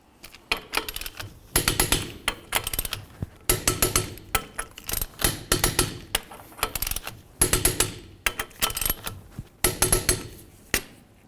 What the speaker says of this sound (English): We'll torque these to 100 foot-pounds in a crisscross manner.